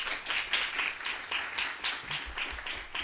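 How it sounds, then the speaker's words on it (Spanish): Audience applause welcoming a speaker to a youth arbitration conference panel, with steady dense clapping from a seated crowd throughout, moderately loud and without talk. "Les pido por favor darle la bienvenida con un fuerte aplauso."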